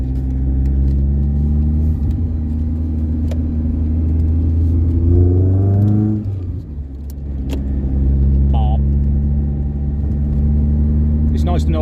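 A Volkswagen Golf GTI Mk2 16v engine on a dyno holds a loud, steady mechanical drone, sweeps through a quick rev change midway, then settles back into a sustained roar.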